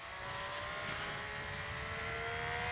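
A 2023 Triumph Street Triple RS motorcycle engine under way, a steady droning roar with rising pitch as it revs, continuous and fairly faint beneath wind noise, without speech.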